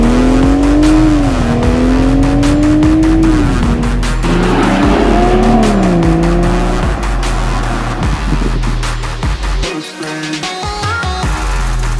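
A BMW X3 M40i SUV driven hard at speed, its engine note rising and falling through gear changes, with loud tyre squeal and skidding running continuously throughout.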